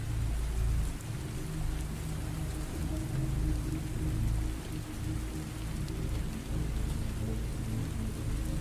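Steady rain falls in a dense, even patter, with a low rumble underneath throughout.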